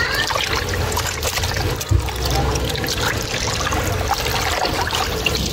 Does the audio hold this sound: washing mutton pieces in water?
yes